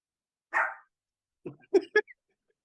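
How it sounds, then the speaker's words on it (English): A puppy gives a single yelp, then a quick run of three short, close barks, with quiet pauses between them and no talk over them. "I heard a puppy."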